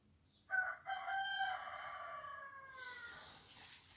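A single clear cock-a-doodle-doo rings out from a nearby rooster, starting sharply, holding a sustained drawn-out note, then fading into faint background hiss.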